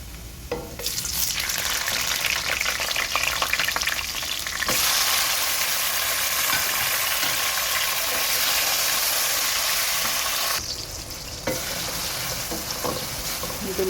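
Loud, continuous sizzle of garlic frying in oil in a pan for macaroni, with bursts of stirring and a brief quieter stretch near the start and end.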